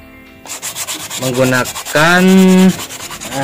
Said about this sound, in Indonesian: Ini saya lagi menghaluskan permukaan ini